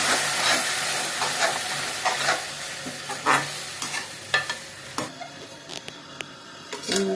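White peas masala being sautéed and stirred in a pan, a steady close sizzle and hiss with repeated scraping stirs, quieting slightly toward the end.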